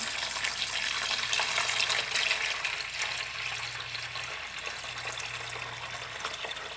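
Bleach poured into a plastic cake holder top, a steady splashing, trickling pour that fills the whole stretch at close range with no talk.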